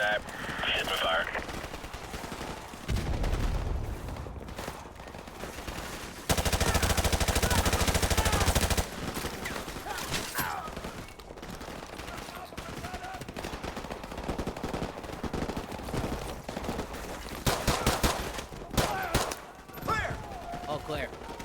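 Gunfire in the video game Call of Duty Modern Warfare: repeated machine-gun bursts and rattling shots, with a loud sustained burst midway, set against game noise and voices of squad members.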